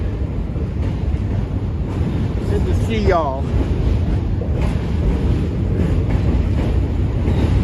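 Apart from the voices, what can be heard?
New York City subway Q train passing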